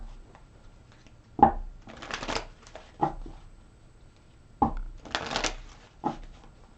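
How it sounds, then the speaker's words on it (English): Tarot cards are shuffled by hand in a quiet room, with crisp riffling bursts broken by soft taps and thumps as the deck is squared, repeating several times at close range. "Let me take out more cards"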